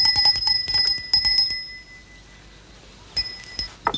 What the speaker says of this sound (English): Harry, could you see why they aren't answering the bell?